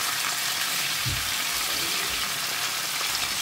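Chicken frying in a pan over a high flame, giving a steady, loud broadband sizzle throughout with a brief low stirring clatter partway through; no one speaks.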